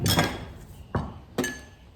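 Two sharp cracks of eggs against a hard rim, spaced apart, close and fairly loud, with a faint clink after the first.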